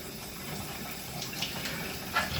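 Shower water runs steadily in a bathroom, a continuous broadband hiss with a few brief splashes, heard close and alone.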